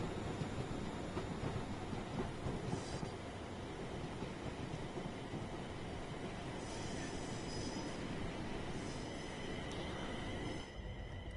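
A Pendolino train rushes past in the Train Sim World 6 video game, a steady loud roar of rolling wheels with rail clatter and occasional high squeals, continuous throughout with no talk.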